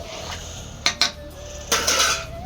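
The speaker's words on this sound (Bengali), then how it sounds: "মাংসটাকে কষানো চলছে কষিয়ে কষিয়ে মাংস থেকে জল বের করবো" A spatula clanks and scrapes against a pot of chicken being stirred over a wood fire, with a few distinct metallic knocks over a low background.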